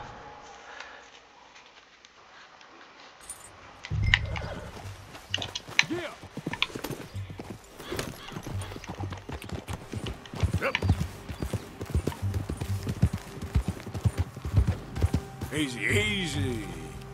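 Horse hooves clip-clop in the Red Dead Redemption 2 video game, a quiet start giving way to a busy, uneven run of hoofbeats from about four seconds onward, with voices heard intermittently.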